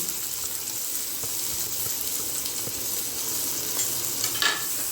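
Garlic cloves and onion sautéing in a hot pan, a steady close sizzle with faint stirring scrapes throughout and no voices.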